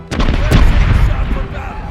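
Port side ship cannons firing in the pirate naval battle game Corsairs Legacy, a quick ragged volley of heavy booms rolling into a loud low rumble.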